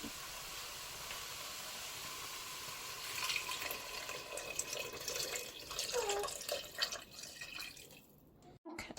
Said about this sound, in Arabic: هنا حطيت 3 يطرو ديال الماء